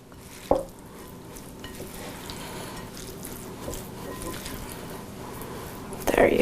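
Meat filling is stirred and scraped around a sizzling frying pan, a steady soft frying hiss with a few sharper clacks, while a person talks over it.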